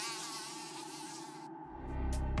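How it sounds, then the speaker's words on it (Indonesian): A mosquito, a small insect of the Culicidae family, whines with a steady high buzz that fades out partway through, followed by a low rumbling noise and a few brief high ticks. "Nyamuk adalah serangga yang termasuk dalam ordo Diptera dan termasuk dalam famili Culicidae."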